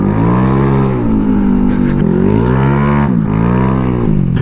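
A loud, close Honda Vario motorcycle engine revs up and down three times in quick succession, the pitch rising and falling with each throttle blip.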